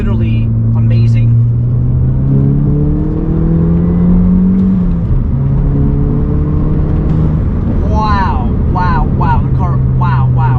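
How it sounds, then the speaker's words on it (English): A tuned Volkswagen MK7 GTI accelerating through the gears, engine tone rising in long sweeps with a shift drop midway, loud and close inside the car, with faint voices heard near the end. "the car picks up so much quicker"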